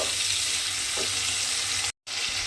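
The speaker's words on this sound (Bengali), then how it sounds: "টমেটোটা তেলের মধ্যে দিয়ে একটু নেড়ে ছেড়ে নিয়েছি" Chopped medium tomato stirred and frying in hot oil for a cabbage dish, giving a steady close sizzle that is briefly cut off near the end, with no voices.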